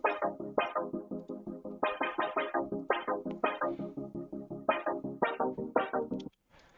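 Stereo synth chord stabs run through an effects chain, repeating short bright chords in a steady syncopated rhythm, each stab decaying quickly, alone with no talking and ending abruptly.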